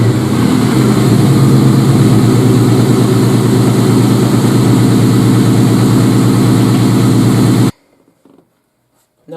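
A 1999 Ford Mustang engine runs loud and steady at idle, with a dense low rumble, then cuts off abruptly near the end and leaves near silence.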